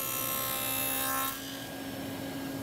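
A table saw cutting dados into a wooden cabinet side for internal shelves, with its sacrificial fence removed: a steady, loud whirring bite through the wood that drops off to a lower running hum partway through, with no talking.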